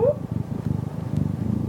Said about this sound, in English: Oh, that's a big purring boy.